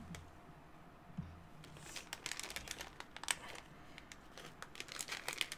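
Plastic packaging for perler bead supplies crinkled and torn open, quiet crackling and rustling up close, growing busier and sharper midway, with no talking.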